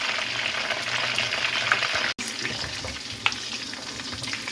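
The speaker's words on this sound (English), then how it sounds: "this is like maybe 15 minutes or so frying" Food sizzles and crackles steadily in a hot pan, close up, with a brief cut midway and an occasional utensil clink.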